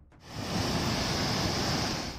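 Heavy water roaring through the opened gates of Tawa dam after rain swelled the reservoir, a dense, steady rushing roar that swells in over the first half second and then holds.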